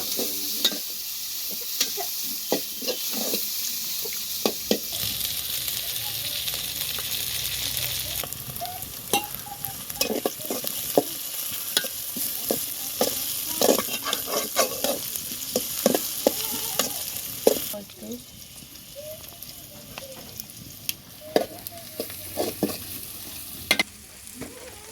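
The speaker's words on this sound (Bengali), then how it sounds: "রসুন পেঁয়াজটা একটু ভাজে নেব, নেওয়ার পরে তো ওগুলো দিয়ে দেব, একটু হালকা বাদামি কালার করে নেব" Garlic and onion frying to light brown in a pan in a village kitchen, making a continuous close sizzle with frequent scraping stir strokes and spoon taps throughout, without talk.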